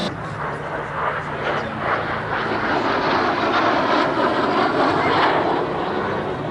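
Airplanes at the Melun-Villaroche Air Legend 2019 air show, a steady broad engine roar filling the whole stretch, swelling slightly near the end, with crowd murmur and faint talk underneath.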